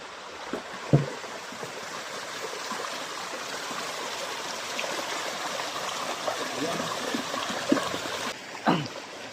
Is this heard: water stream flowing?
yes